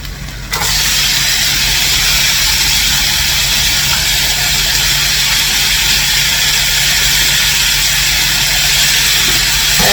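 Vegetables sizzling in an oiled pan for pepper steak, a sudden loud, steady hiss and crackle that starts after a brief quiet moment and holds evenly to the end.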